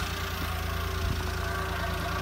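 A Honda Acty Attack kei truck with a four-speed manual gearbox idles steadily up close, its low, even engine hum running without a break throughout.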